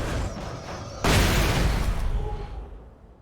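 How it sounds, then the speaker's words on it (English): A flashbang grenade goes off in Alan Wake Remastered: a sudden loud broadband blast that lingers as a rumbling, fading roar for about two seconds, preceded by quieter game ambience. "I think I should just throw a flashbang in there"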